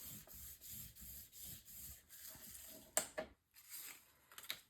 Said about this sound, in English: and then I'll burnish this down.